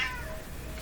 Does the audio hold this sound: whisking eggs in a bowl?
no